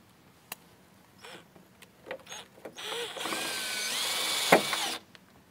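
Power drill boring mounting holes for flamethrower exhaust coils on a car, a few short bursts and then a sustained, whining run close by with a sharp click near the end.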